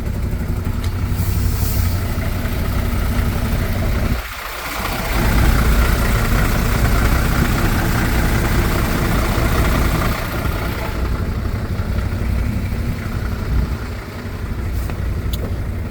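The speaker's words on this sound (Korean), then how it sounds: "엔진 소리 한번 들어볼게요" A MAN truck's heavy diesel engine idles steadily and loudly with a constant low rumble throughout, with no voices.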